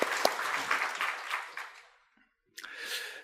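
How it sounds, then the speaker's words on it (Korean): A church congregation claps for teachers in two bursts. The first is full and lively for about two seconds, then the sound breaks off briefly before the clapping returns more softly. "일단 이분들에게 우리 박수 한번 힘차게 하십니다"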